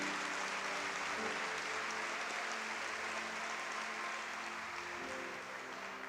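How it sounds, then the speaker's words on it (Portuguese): A church congregation applauds steadily for the full stretch, a dense, even wash of many hands clapping that fades slightly toward the end. "E vamos aplaudir essas pessoas aí."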